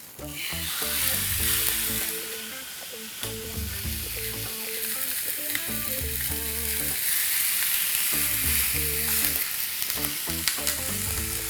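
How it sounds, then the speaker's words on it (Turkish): T-bone steak and veal cutlets fry in a hot pan with a loud, dense, close sizzle, while utensils knock and clatter almost constantly against the pan. "Evet şimdi etlerimizi pişirmeye başlayabiliriz."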